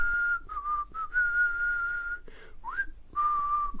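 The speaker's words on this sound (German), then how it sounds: "Ich fange an zu pfeifen, um meine Fassung zu bewahren" A person whistling a short, steady tune: clear sustained notes with brief gaps and one quick upward slide, close and alone in a quiet room.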